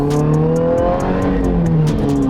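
A supercharged Toyota GR86 making about 350 wheel horsepower revs loudly up close, its pitch rising and falling with a supercharger whine and rhythmic ticking over the roar.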